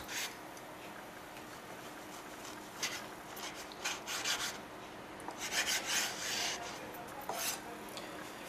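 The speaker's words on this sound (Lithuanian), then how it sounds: "Taigi sėklidės pjaustome" Quiet rasping scrapes of a knife slicing lamb testicles into strips, coming in short uneven strokes with pauses between them.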